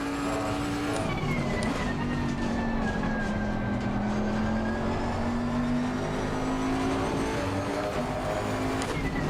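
A yellow McLaren race car in Assetto Corsa holds a steady high-revving engine whine that rises and falls slightly as it passes, loud and continuous with no pauses.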